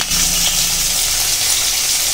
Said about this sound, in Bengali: তো আমি দেখো ভাজা করে নিচ্ছি।